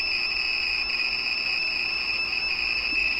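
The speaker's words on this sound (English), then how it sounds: "this is the sound of a printer at work that was broken" A broken printer running, captured raw: a steady electronic whine with two sustained high tones over a constant hiss, unbroken and fairly loud for the whole stretch, with no voices.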